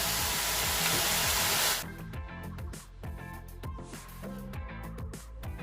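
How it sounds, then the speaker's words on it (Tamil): Beetroot carrot pakoda deep-fries in hot oil, opening with a loud, dense hiss that abruptly drops to a softer, crackling bubble with scattered pops, close and steady. "பக்கோடா ரெடி ஆகிடுச்சுன்னா இந்த ஆயிலோட சலசலப்பு அடங்கிடும்"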